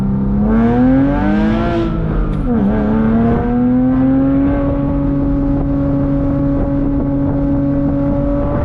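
A 2006 Porsche Boxster S flat-six revs with its exhaust valves open, the engine note climbing and dipping through a couple of quick blips before settling into a loud, steady, close drone.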